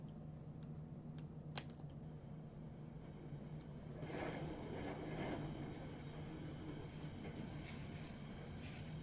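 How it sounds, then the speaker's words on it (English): Train rolling along its track in an anime-style story game, a steady low rumble with a hum and scattered high clicks, swelling briefly in the middle before settling back to a constant drone. "Kazuya, Reina, get ready to hop off the train."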